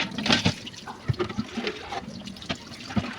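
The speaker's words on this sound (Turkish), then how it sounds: "Ben de bidonla dökmeye başladım su" Water splashing and trickling as it is poured from a jug over removed oven parts being washed, with irregular close splashes and drips.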